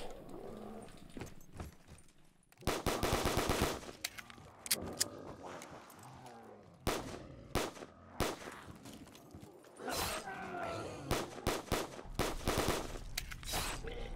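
Bursts of video-game gunfire from a weak gun, short rapid volleys loud and close, separated by quieter gaps with other game sounds in between, no talking.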